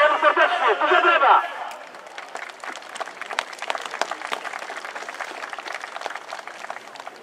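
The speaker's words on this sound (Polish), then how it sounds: "Duże brawa!" Applause from the crowd at a football match between Polonia Przemyśl and Wisła Kraków, a dense burst of clapping for the first second and a half, then thinner scattered claps continuing throughout.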